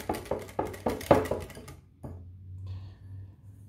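Zucchini and onion flan batter mixed in a bowl: a quick run of rhythmic scraping strokes for under two seconds, then a single knock and a faint low hum trailing off.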